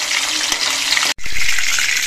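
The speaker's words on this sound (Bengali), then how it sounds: "এবার এই তেলের মধ্যে আমি কিছু কিশমিশ ভেজে নিচ্ছি।" Raisins fry in hot oil, giving a loud, dense, close sizzle that runs continuously, broken once by a split-second gap before the crackling resumes.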